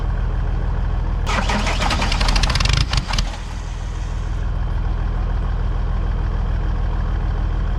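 Homemade cultivator built from scrap metal, its engine cranked and started nearby with a burst of loud rattling, then settling into a steady running drone.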